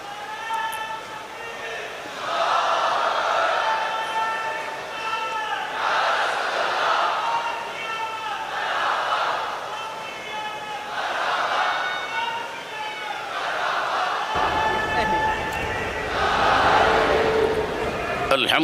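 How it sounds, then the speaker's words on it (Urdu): At a large religious gathering, a crowd chants the slogans Nara-e-Takbir and Nara-e-Risalat in a steady call and response, with loud massed voices answering a leader in repeated waves. "اگر لگانا ہی ہے تو نعرہ تکبیر، نعرہ رسالت، یہ نعرے لگائیے"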